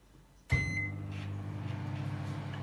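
A microwave-style oven door shuts with a sharp thump, then the appliance starts and hums steadily at close range while masala idli cooks inside.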